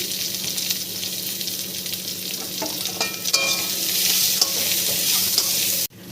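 Dried chili, garlic and onion fry in a pan with a loud continuous sizzle and occasional stirring scrapes, close by, cutting off abruptly near the end.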